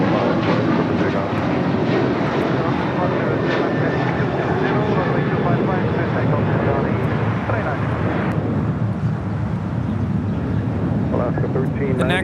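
A heavy jet airliner departing on runway 25 right at LAX, a loud sustained engine roar with wind rush, steady throughout and easing slightly toward the end, while a voice talks over it.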